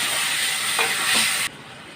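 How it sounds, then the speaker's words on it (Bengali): Spices with chili, coriander, cumin and salt hiss and sizzle loudly in a hot curry pan as a little water goes in, a dense, close frying hiss that suddenly drops to a softer simmer near the end. "অল্প একটু জল দিয়ে কষবো।"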